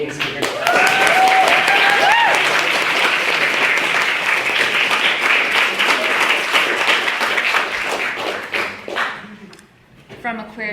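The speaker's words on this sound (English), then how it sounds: "Massive round of applause for Jack." A large debate audience claps loudly in sustained applause, a dense wash of hand claps that fades out toward the end, with a brief voice mixed in early.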